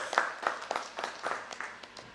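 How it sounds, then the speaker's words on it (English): At an education summit, scattered applause rises in faint, uneven pulses of clapping, fairly distant and thin, as if only a few hands in a large hall join in. "Huge round of applause."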